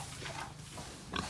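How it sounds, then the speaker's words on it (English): A Duroc pig on a farm gives a few soft grunts and oinks nearby, faint over quiet background noise. "Copper's a Duroc"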